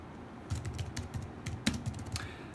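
Quick bursts of typing on a computer keyboard, close and fairly quiet, with uneven clusters of key clicks and short pauses between them.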